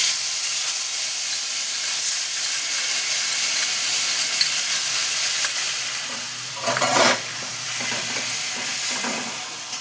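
Onion, garlic, ginger and tomato paste fries in a kadai with a loud, continuous hissing sizzle, briefly interrupted midway by a stirring scrape before the frying settles back.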